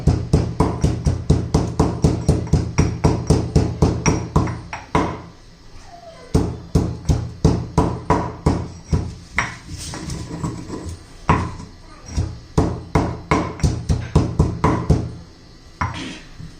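Garlic and green chilies pounded with a pestle for a drumstick-leaf vegetable dish, a steady run of loud, close, rhythmic thuds with short pauses between bursts.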